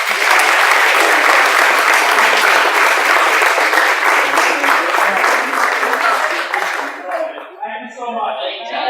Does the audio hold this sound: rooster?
no